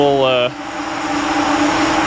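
A 1955 Chevy Nomad's old engine idles rough with a steady drone after a brief tonal whine cuts off, sounding close and loud.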